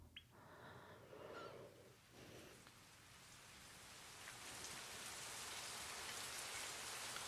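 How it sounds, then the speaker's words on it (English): Steady rain falling in a school courtyard within an anime story, a soft continuous wash of drops that swells gradually louder, with faint bird calls early on and no talking. "雨が降ってる。 It's raining."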